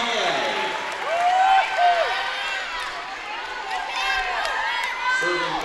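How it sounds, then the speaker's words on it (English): Volleyball fans in an indoor arena make a low, steady crowd noise with scattered claps and cheers, while a commentator talks over it. "Bronx fans starting to get a little louder, looking for something to cheer on"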